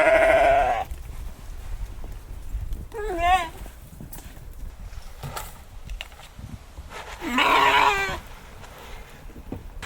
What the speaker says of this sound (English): I feed the sheep separately because mom is still recovering from having the two babies